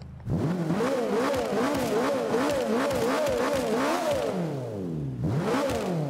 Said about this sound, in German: Also für einen V8 dreht das Ding verdammt schnell nach oben.